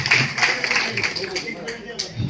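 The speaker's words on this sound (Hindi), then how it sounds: "और तीसरी ताली बजनी चाहिए रानीगंज चैम्बर ऑफ कॉमर्स के लिए" An audience at a Raniganj Chamber of Commerce film event for Mission Raniganj claps in a brisk, uneven patter of hands, fairly close and loud, with a voice speaking over it.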